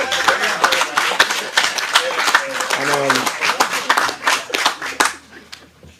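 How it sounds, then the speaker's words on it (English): Audience at an agri-technology training centre handover ceremony claps in a burst of scattered, uneven hand claps that fades out, with people talking over and between the claps. "Somebody give me a round of applause"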